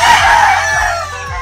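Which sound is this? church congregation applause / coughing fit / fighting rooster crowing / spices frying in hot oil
fighting rooster crowing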